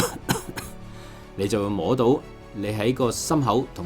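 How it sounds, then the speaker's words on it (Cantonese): A few short, sharp coughs open the clip, made as a test of abdominal breath support. Clear speech by a single voice follows. "咳幾聲嚟試下"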